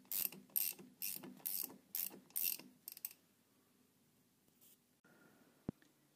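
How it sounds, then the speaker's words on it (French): A screw extractor is turned to free a bearing housing on a Renault V72 tractor, giving a run of six or seven close, sharp ratcheting bursts, then quiet with a few faint clicks and one sharp tap. "à l'aide de mon extracteur, je visse et je vais libérer, voilà, mon carter du roulement."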